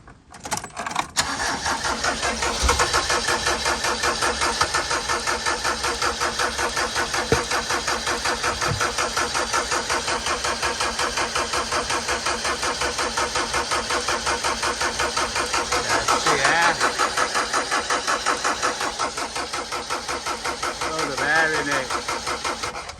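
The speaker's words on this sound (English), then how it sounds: "I think I just need a decent battery on it to give it a faster crank." A Mercedes 308D motorhome diesel engine cranks slowly and repeatedly with a rhythmic labouring chug, loud and close, sustained for most of the stretch with brief surges, while a person speaks intermittently.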